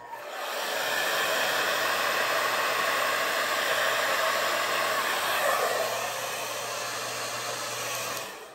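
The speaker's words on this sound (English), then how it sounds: "I actually think I'm going to hit it with my dryer just real quick." A hair dryer switches on and blows continuously for several seconds, a loud steady whoosh of air close by before cutting off.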